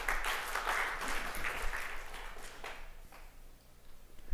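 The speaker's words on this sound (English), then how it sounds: "So you can applaud me again now." A conference audience applauds after a talk, a dense burst of clapping that stays steady for a couple of seconds, then thins out and fades away to quiet room noise.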